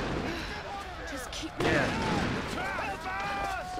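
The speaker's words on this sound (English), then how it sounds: "Why is everything exploding?" Explosions and scattered gunfire rumble through Tomb Raider gameplay on hard difficulty, one sharper blast midway, with a voice talking over the din.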